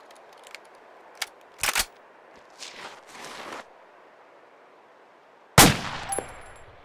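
Rifle rounds being loaded in Arma 2, a sequence of sharp metallic clicks and clanks spaced irregularly, with a louder snapping clack near the end, against a faint hiss.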